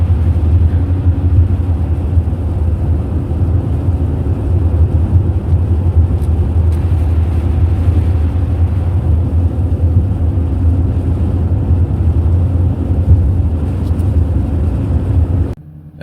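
A car drives over a snowy winter road in Minnesota, a loud, steady low rumble of engine and road noise heard from inside, continuous until it cuts off at the very end.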